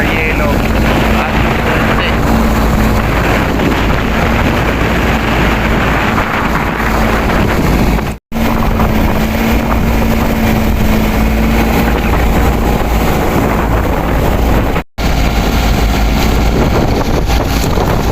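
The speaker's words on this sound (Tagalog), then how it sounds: "Bubulusok na yung aming bangka" A motorized outrigger bangka crossing the open Pacific Ocean: a loud, steady engine drone blended with rushing water and heavy wind buffeting the microphone, continuous throughout, with two brief dropouts.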